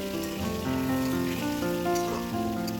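Potatoes fry for a homestyle mutton curry, a steady rain-like sizzle running under melodic background music throughout.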